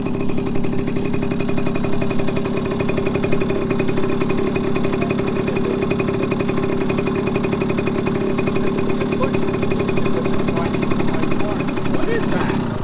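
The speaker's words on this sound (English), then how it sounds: "Like a Honda steps through, but it's got a two-stroke engine in it." A Yamaha step-through motorcycle with a two-stroke engine runs steadily at idle at an outdoor vintage dirt bike swap meet, a close, continuous buzzing drone throughout.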